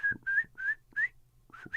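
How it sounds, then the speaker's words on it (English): A person whistles in short, separate tones, four or five brief notes with gaps between them, close and fairly clear. "I'm trying to whistle."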